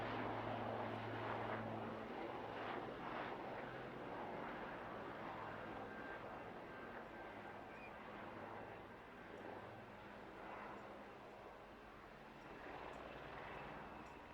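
Royal Navy training squadron helicopter flying a display at a seaside air festival in England, a distant, faint rotor and engine drone that rises and falls steadily over outdoor crowd ambience.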